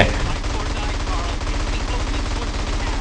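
Steady, rapid automatic gunfire in GTA San Andreas, continuous and loud for the whole stretch, with a Thai-speaking voice faintly in the background.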